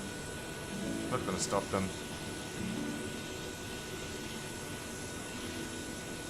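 An aircraft engine runs up for start in Microsoft Flight Simulator 2020, a steady low drone holding at a constant level while people talk over it.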